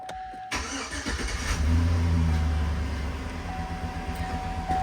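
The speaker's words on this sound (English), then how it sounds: "We're going to start by starting the truck, letting it run." A 2003–2007 GM GMT800 pickup truck engine cranks and catches, then settles into a steady low idle that runs on, close by, with a faint high tone in the background.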